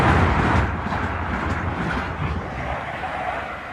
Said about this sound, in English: 801-109 working a Eleanor Azuma service from London King's Cross to Newcastle